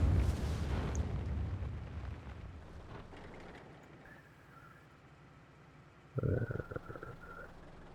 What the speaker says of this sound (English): And there is going to be artillery coming in. There's one, there's 2.